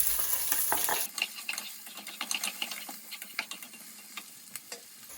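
Chopped onion added to a pan of hot oil with fennel seeds, bay leaf, black cardamom and cinnamon: a brief loud sizzle at first, then quieter crackling and scattered spoon-stirring clicks and scrapes, close up, with no talk.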